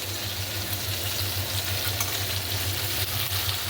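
Fish frying in a pan until crisp, giving a steady, dense sizzle with a low, continuous hum underneath. The sound is close and constant, with no one speaking.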